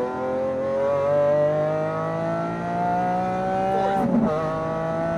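A Porsche GT2 RS engine revs under full power on a Las Vegas track, pitch climbing steadily toward the red line before a brief upshift break near the end; loud and close, no talk.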